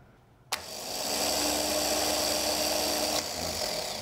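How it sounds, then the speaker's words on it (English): A starter motor on a bench test board spins up abruptly with a sharp onset, whirring loudly and steadily for under three seconds before cutting off, leaving a quieter hum. "Give it a spin."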